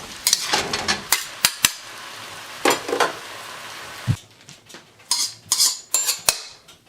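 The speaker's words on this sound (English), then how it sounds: "Give it a last stir fry like this" Bok choy and pork being stir-fried in a wok, with repeated sharp metallic clanks and scrapes of a spatula against the pan in bursts over a soft sizzle, close and fairly loud, no talking.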